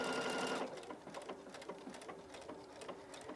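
Pfaff Creative Icon sewing machine stitching a tapered embroidery design, a rapid even needle patter that starts louder then settles into a steady quieter mechanical chatter, close up with no speech.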